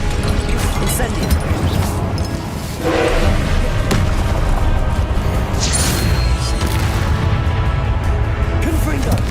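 The Incendio fire spell cast in combat in the Hogwarts Legacy video game, with heavy thuds and crashing bursts over loud, continuous fight noise, and a voice speaking briefly amid the clamor.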